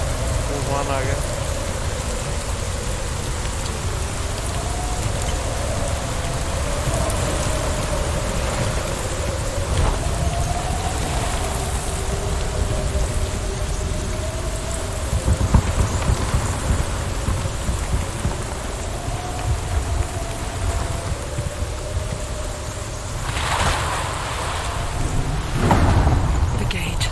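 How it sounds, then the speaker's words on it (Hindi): Storm in the video game Hellblade: Senua's Sacrifice, with steady heavy rain hissing throughout and low rumbles of thunder, a faint tonal drone underneath, and a louder thunder roll near the end. "तूफान आ गया।"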